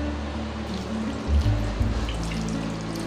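Water is poured from a tumbler into a pot for drumstick leaf soup, a short close trickle and splash lasting a few seconds.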